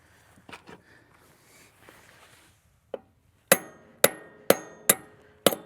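Sharp metallic hammer strikes ring out close up, one then five evenly spaced blows tapping a mower part in, after some quiet handling and shuffling noises.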